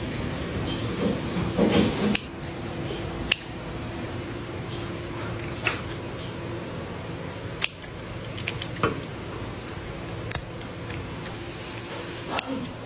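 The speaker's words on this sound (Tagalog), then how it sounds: "Tapos naisip ko nga hatiin ko na lang gamit ang gunting." Scissors snip through grilled pork belly (inihaw na liempo) on a plate, a few short crisp clicks and cuts scattered over a steady low kitchen hum, close and moderately quiet.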